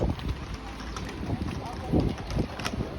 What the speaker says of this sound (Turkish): Hava çok rüzgarlı.